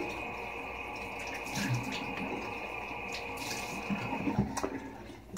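Water splashes at a running tap while a face is wetted before shaving, with a steady flow and soft irregular splashes close by, then the flow ending.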